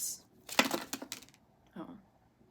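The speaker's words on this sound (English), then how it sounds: "A lot of cards just fell out there" Tarot cards spill from a deck during shuffling in a burst of quick, close papery slaps and flutters, followed a moment later by one softer tap, in an otherwise quiet room.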